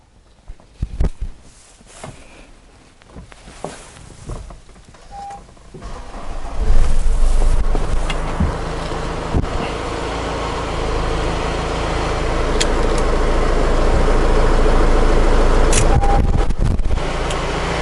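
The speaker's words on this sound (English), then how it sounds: "go and start the vehicle, and I'm going to use a pedal depressor to increase the engine RPM" A Honda CR-V's engine starts and then runs at raised RPM with a pedal depressor holding the throttle during a DPF cleaning, giving a steady loud idle-to-rev drone after some handling clatter and a few workshop beeps.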